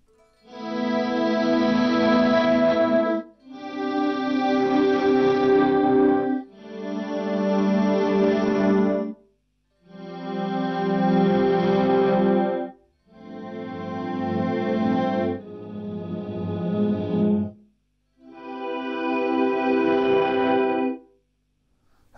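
Guitar chords run through an Eventide UltraTap delay pedal on its Ultra Swole preset, seven swelling washed-out bursts each lasting a few seconds, thick and chorused with smeared repeats, separated by brief silences.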